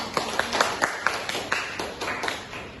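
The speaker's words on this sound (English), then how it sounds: "Please give an biggest applause." Applause from an audience opening a student diplomacy debate session on the humanitarian crisis in Gaza, Palestine: a scattered patter of claps with a few sharper individual claps, moderately close, with a faint murmur of voices underneath.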